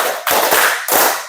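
Many hands clap together in a schoolroom clapping game, a few dense, uneven bursts of group claps close by with a smeared, crackling texture.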